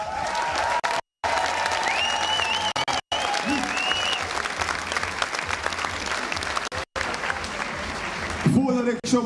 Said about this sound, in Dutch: Dus ook CDE, voor jullie een heel groot applaus.